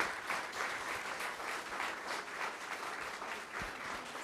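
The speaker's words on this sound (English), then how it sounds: "Let's give one more round of applause to all of our retirees tonight." A crowd applauds retirees at a school district board of education meeting, steady dense clapping that fills the room throughout without any talk.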